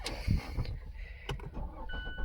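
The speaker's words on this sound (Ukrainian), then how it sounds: "Заводиться автомобіль з кнопки." A 2014 Mazda 3 engine starts by push button: a quick low rumble of the starter catching near the start, then a few clicks and a settling idle under faint cabin noises.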